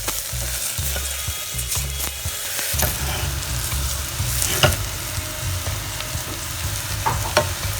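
Onions, garlic, ginger and spices frying in a pan, a loud continuous sizzle with repeated scraping and clattering as a utensil stirs, plus a low rumble underneath.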